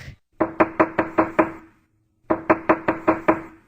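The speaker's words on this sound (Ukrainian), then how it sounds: "Стукає молоток." Two quick bursts of hammer knocks, six or seven firm, evenly paced blows each, separated by a short pause.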